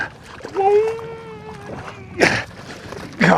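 A musky is netted from a boat, with sharp water splashes and sloshing bursting out twice near the end, after a voice speaks over the quieter water.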